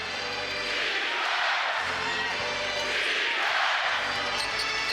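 A basketball arena crowd at a Knicks vs Hawks NBA game chants defense in two rising, swelling waves, loud and reverberant, filling the whole stretch.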